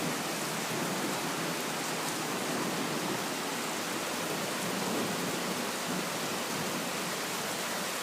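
Heavy rain pours steadily at night during a thunderstorm in Riga, a dense, constant hiss with wind mixed in, no distinct thunder claps standing out.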